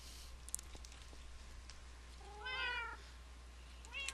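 Several cats meowing together in Minecraft, a burst of overlapping meows in the middle and a shorter one at the end, over a quiet game background.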